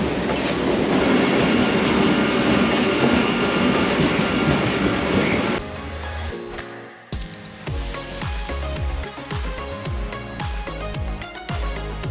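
A train rolls along with a loud, steady rumble, then shifts to rhythmic clickety-clack of wheels over rail joints, close and continuous.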